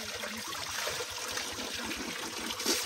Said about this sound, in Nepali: काठबाट निक्लेको पानी यही हो